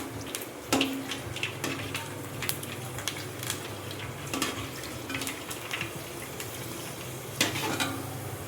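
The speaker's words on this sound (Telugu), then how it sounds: "ఇంక ఇలా వేపేసుకోవాలి ఫ్రెండ్స్ అన్నీ." Puris fry in a pan of hot oil, a continuous close sizzle and bubbling with scattered sharp crackles and occasional utensil clinks throughout.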